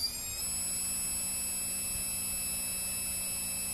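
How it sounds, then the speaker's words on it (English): Steady electronic tone from a multirotor ESC on an SK450 quadcopter build during min/max throttle calibration, a continuous high buzzing beep held alone for several seconds with no voices. "Now you hear a double beep."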